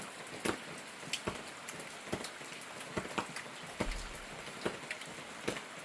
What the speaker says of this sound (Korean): 비가 엄청 내리고 있네요